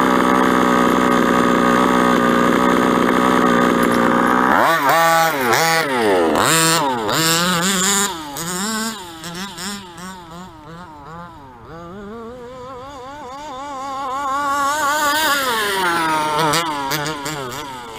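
A gas engine in an Associated 5th-scale RC truggy, bogging near the top: a steady high drone breaks into choppy revving bursts, sags to a rougher low rumble, then climbs again.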